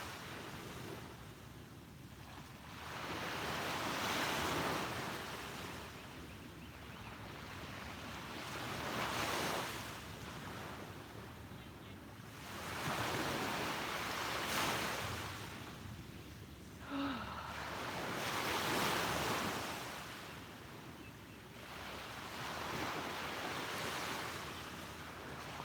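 Ocean waves roll onto a beach at sunrise, each surge swelling and fading in a steady rhythm every few seconds, with light wind noise and no voices.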